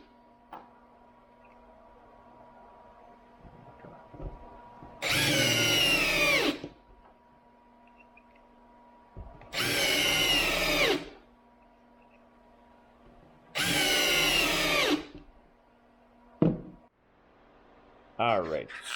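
Three separate bursts of whirring cordless drill drivers driving screws, each lasting a second or two, with quiet pauses between and a short buzz at the end.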